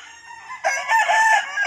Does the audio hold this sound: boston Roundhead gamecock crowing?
yes